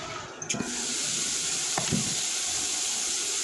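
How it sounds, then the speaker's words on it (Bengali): Cut potato pieces frying over medium heat in a covered pan, a steady broadband sizzle with a couple of brief clinks near the start. "ঢাকা দিয়ে আলুটাকে আমি ভেজে নিব"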